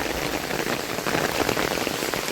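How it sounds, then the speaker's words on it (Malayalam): Heavy rain pours down steadily in a Kerala village, a dense close hiss of drops drumming on surfaces with no letup. "ഇവിടെ ഭയങ്കര മഴയാണ്, പെരും മഴ."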